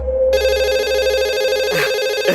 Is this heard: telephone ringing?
yes